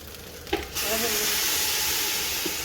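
A sudden burst of hissing as water hits a hot pan of just-fried rice for biryani, settling into a steady, loud sizzle that continues to the end.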